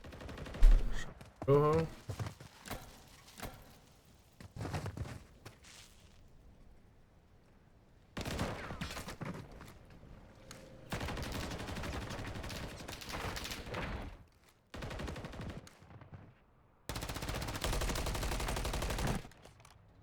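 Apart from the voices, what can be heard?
gunfire in a video game match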